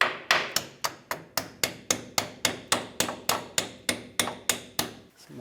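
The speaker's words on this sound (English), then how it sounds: "I can do this with a hammer." Steady hammer taps strike a rack and pinion steering assembly on a 1996-2002 Toyota 4Runner, about fourteen sharp metallic hits in an even rhythm, close and loud with no talking.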